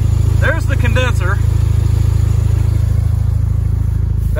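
A Volkswagen Passat with a 1.8T engine idles steadily and close by, with a low, even hum running through the whole stretch while brief talk is heard near the start.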